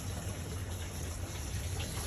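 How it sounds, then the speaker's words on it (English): Fuel poured into the tank of a flood-damaged Porsche 911 Turbo, a steady, even liquid gush running for a couple of seconds with no pauses. "You see the fuel is being poured in"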